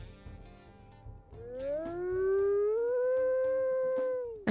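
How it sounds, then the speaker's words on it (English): A wolf howl in the video game WolfQuest rises from a low start to a sustained tone that drifts slightly before ending, preceded by a softer, similar-sounding lower call. "he actually breaks the trend with two very similar sounding howls"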